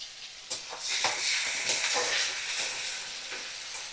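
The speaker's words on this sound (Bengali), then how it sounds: "দেখো আমি ভালো করে পেঁয়াজ ভাজা করে নিচ্ছি আর গ্যাসের ফ্লেমটা আমি মিডিয়ামে করেই রেখে দিয়েছি।" Medium-sized chopped onions fry in oil over a medium gas flame, a loud continuous sizzle and hiss with sharper crackles and bursts as the pieces are stirred, heard close up with no talking.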